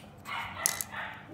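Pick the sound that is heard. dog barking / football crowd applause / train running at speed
dog barking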